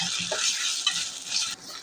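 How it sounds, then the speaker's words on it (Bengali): Ginger and garlic sizzle loudly in oil with onions and chilies, cooking for a beef liver curry, as a dense steady hiss runs under a few quick stirring scrapes. "এখন আমি আদা রসুন দিয়ে একটু ভাজবো।"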